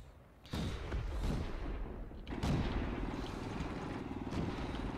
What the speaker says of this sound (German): Ich wurde von irgendwo angeschossen